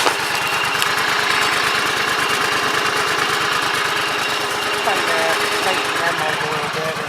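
A John Deere 345 lawn tractor engine running close by, a loud, steady, rapid putter with an even pulsing rhythm that carries unbroken from start to finish.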